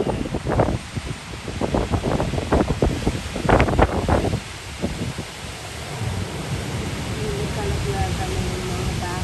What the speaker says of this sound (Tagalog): Tapos ang lakas ng hangin na parang may bagyo.